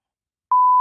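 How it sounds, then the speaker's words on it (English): A single steady censor beep, a pure tone starting abruptly halfway through and holding loud and clean to the end, covering a company name in a corporate interview episode. "We'll beep that part."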